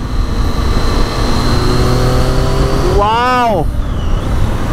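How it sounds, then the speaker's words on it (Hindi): A Triumph Tiger 800 motorcycle engine is revved in a short gear while climbing curves on a highway. A steady drone is followed by one brief rev that swells sharply and falls away, with a voice exclaiming over it. "हल्के से शॉर्ट गियर में जब रेव करते हैं, ये वाली आवाज के लिए जो फन आता है ना"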